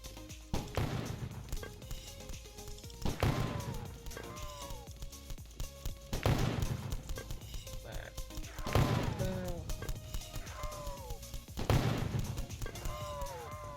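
Repeated heavy explosive blasts from a rocket launcher in Zombie Defense Tycoon, about five of them, spaced a few seconds apart, with booming impacts and other game sound effects between them.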